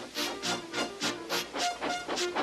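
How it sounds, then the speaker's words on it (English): Rhythmic bursts of hissing steam pulse about twice a second, close and steady, like a locomotive chuffing and blowing off steam. "with much noise and blowing of steam, got ready to back onto the train"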